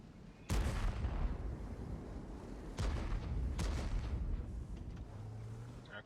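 Gunshots in a competitive video game match, a few sharp distant cracks with booming tails spaced across a steady, low ambient background.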